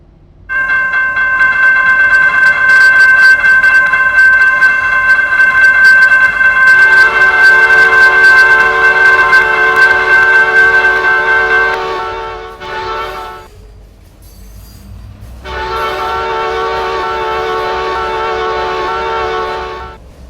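A train approaching a road crossing in the Trainz railroad simulator, with a long, loud, steady horn blast over engine rumble, a short drop, then a second sustained horn blast.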